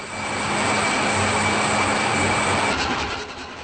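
A MAN B&W two-stroke marine diesel engine runs at steady load in a ship's engine room, giving a loud, dense, continuous roar and hiss with a faint tonal whine, without talk.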